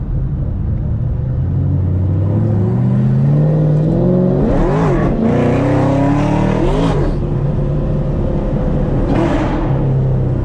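A powerful car engine revs loudly and continuously, surging up in pitch a couple of times before settling into a steady roar.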